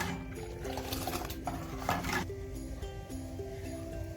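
A spoon stirs sugar into hot milk in a pot while Kashmiri pink tea is being made, giving light repeated clinks and scraping against the metal, moderately close and steady, with no talking.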